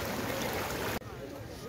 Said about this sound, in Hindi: अब हम लोग एकदम झरने के बीच में आके बैठ गए, जैसे कि आप देख पर आवाज़ भी आ रही होगी